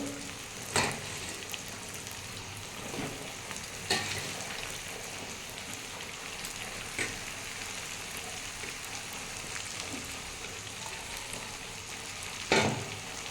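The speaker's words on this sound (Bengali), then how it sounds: "আমার পেঁয়াজটা ভাজা হয়ে গেছে আমি এর মধ্যে বাঁধাকপিগুলো দিয়ে দেবো" Cabbage hitting a pan of already fried onions sets off a continuous, close sizzle, punctuated every few seconds by sharp scrapes and clatters of a spatula stirring.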